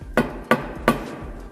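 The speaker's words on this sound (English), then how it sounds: "we'll put the punch here and then hammer it just to recess that into the hole a little bit" A hammer strikes a blunt punch three times, evenly spaced and close, recessing a plastic cap into a hole while installing a 20 mm profile linear guide rail.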